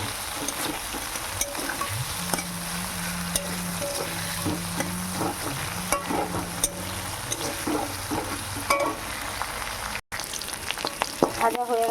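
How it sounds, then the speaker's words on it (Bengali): Pointed gourd and prawns fry in oil in a pan, a steady close sizzle with stirring scrapes throughout, and a low droning tone underneath for a few seconds. "একটু ভালো করে ভাজা করে নেব"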